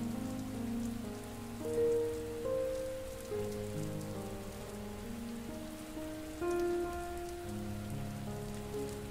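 Steady rain falling, a soft continuous hiss of drops spread evenly throughout, blended under calm sustained ambient music tones for a meditation, with no talking.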